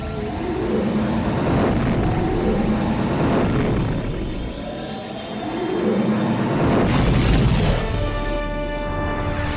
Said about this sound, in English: We are ready to make the jump to hyperspace.